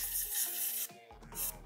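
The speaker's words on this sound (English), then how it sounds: "It's going to be easier to get the dust out if you spray it against the way that it normally goes" Compressed air sprayed into an old Dell PC to blow out dust, a harsh hissing rush in short bursts with brief pauses and rattling, close up.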